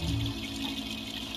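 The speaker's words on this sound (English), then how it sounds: "Pour liquid into the container" Liquid is poured into a container in the Free Realms video game, heard as a steady watery pouring wash, moderately loud and continuous over the short stretch with no talk.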